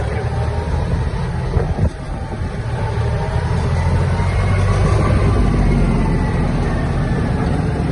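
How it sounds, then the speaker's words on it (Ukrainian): Kubota KL-2450 Japanese mini tractor driving at high speed, a steady loud engine drone and rumble with road and wind noise that builds slightly and holds continuously. "Трактор дуже швидкий він з легкістю перевалює за 20 км на годину, тому що його максимальна швидкість 30 км."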